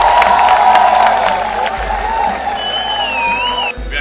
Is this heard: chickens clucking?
no